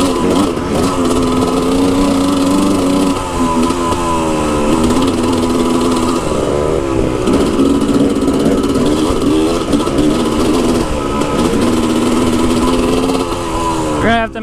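A motorcycle engine running rich at high elevation in Georgetown drones loudly and continuously, its pitch wavering as the throttle rises and falls, close to the listener throughout.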